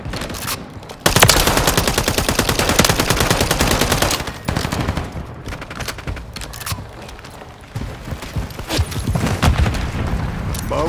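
Rapid automatic gunfire from a Holger 556 rifle and COR 45 pistol in Modern Warfare 3, loud close bursts with sharp cracks and brief pauses, nearly continuous across the clip.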